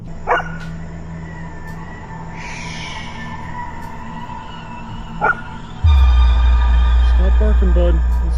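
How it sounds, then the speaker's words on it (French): A dog barks in short yips and whimpers outdoors near a tree, with a voice speaking to it between barks and a loud low rumble of wind or handling toward the end. "What you barking at?"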